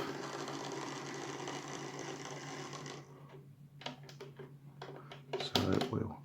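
Lima Class 47 OO gauge model locomotive running, a steady mechanical whirring buzz from its motor that cuts off partway, followed by scattered small clicks and rattles, close and fairly quiet.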